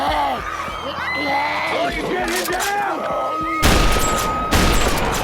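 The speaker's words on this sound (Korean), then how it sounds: "갑자기 들리는 총성" Two sudden loud bursts of gunfire from The Walking Dead, as zombies attack a base camp, cut in near the end, following a stretch of dramatic music and voices.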